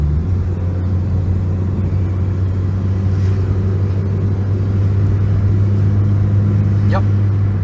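A $200 Geo Prizm climbing one of the tallest hills in the area, its engine droning steadily with a low, constant rumble heard from inside the car throughout, loud and continuous.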